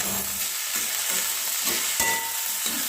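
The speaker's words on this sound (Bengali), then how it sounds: "ভালো করে মিশিয়ে দিচ্ছি" Cauliflower samosa filling with ginger paste and green chilli being stirred in a hot pan, a steady sizzle with repeated scraping strokes of the spoon every half second or so, close and clear.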